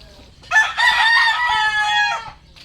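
A rooster crows once close by, a loud, drawn-out call rising and then trailing off, with faint background noise and little else.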